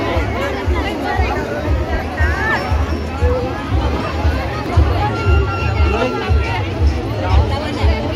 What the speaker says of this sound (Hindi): चारों तरफ भीड़ और हर्षोल्लास का माहौल।